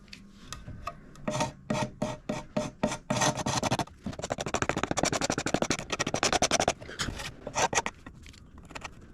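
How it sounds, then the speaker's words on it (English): Scraper rasping repeatedly across old wood on a late 19th-century wall console, a close run of short strokes in bursts, then a faster steady series, then a few slower strokes. "Get the scraper."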